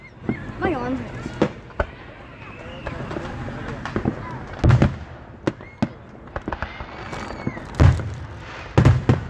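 Fireworks set off at a house for the Fourth of July: sharp pops and bangs go off at irregular intervals, some close and loud, with people talking over them throughout.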